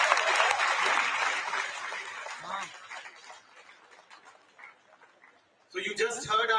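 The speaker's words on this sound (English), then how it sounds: "A big round of applause once again, please." Applause from an audience at a youth summit on human fraternity and compassion, loud at first and gradually thinning to scattered claps before a voice speaks near the end.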